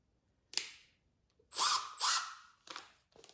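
Power drill boring into wood at a joinery bench, with the bit choked up in the chuck: short separate bursts of high whining drilling, two longer runs in the middle and brief spurts at the end, close and loud, with quiet gaps between.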